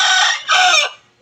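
A chicken gives two loud, close squawking clucks in quick succession, then falls quiet.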